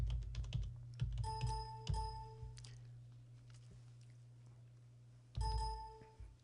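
Computer keyboard keys tapped out in a short burst while a password is entered, then a pause and another quick flurry of clicks, close and fairly quiet.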